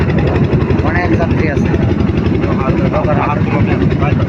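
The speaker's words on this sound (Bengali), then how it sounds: "হ্যাঁ দেখছেন নদী পারাপার হচ্ছে ফিশিং বোট নৌকা।" A fishing boat's engine drones steadily and loudly throughout a crossing of the Brahmaputra river, with people talking over the constant motor rumble.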